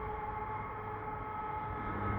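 A CP eastbound double-stack freight train rolls past Cedar Park station in winter, a steady, dense rumble and wheel noise filling the whole short stretch with no pauses.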